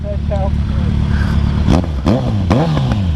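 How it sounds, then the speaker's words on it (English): A Kawasaki Z900 motorcycle engine growls with a loud low rumble, and sharp revving swells break through it. Voices and wind noise are heard over the engine. "now you guys hear how loud the bike is"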